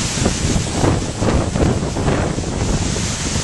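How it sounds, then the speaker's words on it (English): Gale-force wind at Bear Den Rocks Overlook above the Shenandoah River, a loud, continuous roaring rush buffeting the microphone in surging gusts, with no voices. "This is Bear Den Rocks Overlook in a gale-force wind."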